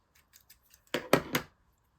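Scissors snip a small piece off a shaped dog card: faint light ticks as the blades settle, then three crisp, close cutting crunches in quick succession before quiet; no talk.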